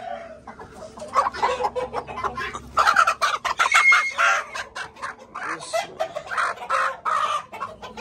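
Aseel chickens, a rooster and a hen, clucking close by in a cramped backyard coop, with repeated loud bursts of clucks and squawks throughout and no talking.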